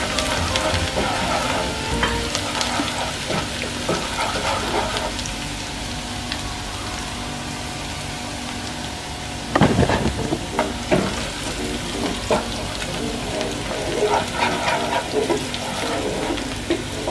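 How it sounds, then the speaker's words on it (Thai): Garlic frying in hot oil in a pan over low heat, a steady loud sizzle and crackle throughout, with a brief clatter of stirring midway and no talk. "พอเขาเริ่มเจียวกระเทียมเนี่ยต้องระวังไหม้นะคะ"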